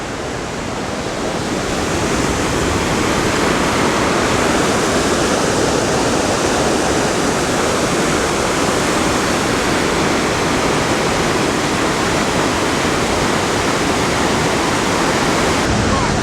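Niagara Falls roars as a steady, dense wash of falling water, heard from a walkway beside the main falls; the loud, unbroken rush builds in over the first two seconds and then holds constant throughout.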